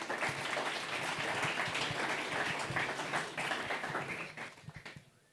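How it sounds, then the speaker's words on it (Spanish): Audience applause for two Alianza Popular candidates at a Bolivian leadership forum, a steady patter of clapping that thins out and tapers near the end. "si les podamos dar un aplauso a los dos candidatos"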